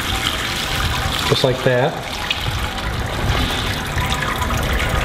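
Sparge water pours steadily over a grain bed in a Grainfather system while brewing an Amarillo SMaSH beer, a continuous close splashing flow under a man's brief speech.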